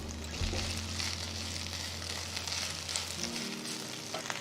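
Fresh mint leaves dropped into a pan of hot gingelly oil sizzle and crackle steadily at close range, with a brief low hum in the background and no talk.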